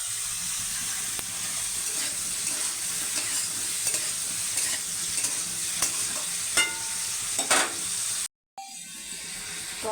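Ridge gourd pieces sizzle steadily in a hot pan for a fish curry, with a continuous frying hiss and periodic scraping stirs, broken by a brief dropout near the end.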